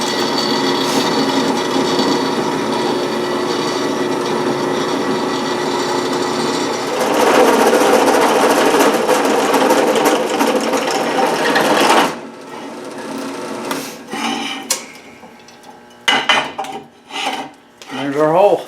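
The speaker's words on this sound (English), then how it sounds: "got our hole drilled" A power drill bores a hole through a metal antenna mount clamped in a vise, loud and whining for about twelve seconds, then stops, followed by scattered handling clatter and a few short bursts.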